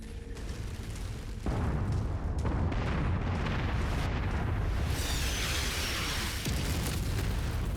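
Artillery shells pound the ground in the MechWarrior 5 battle game, rolling booms and blasts layering into a continuous roar that swells sharply after the first second and stays loud and close, with a harsher crackling burst midway.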